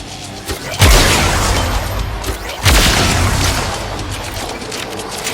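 Two deep booming explosions in the Warframe game Heart of Deimos, each a sudden heavy blast followed by a long rumbling, debris-filled roar, loud and close with no talk.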